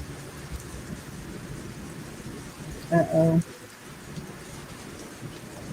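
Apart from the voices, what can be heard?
thunderstorm with rain in the background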